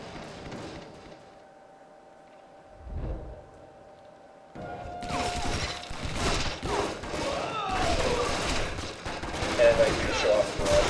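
Automatic Spaz 12 shotgun fire in the Stranglehold video game: a quiet stretch with a dull thump, then a dense barrage of loud blasts and crackling impacts from about the midpoint on.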